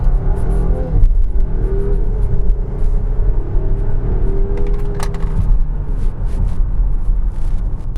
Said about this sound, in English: Okay, in the Volvo XC60, we're gonna launch it.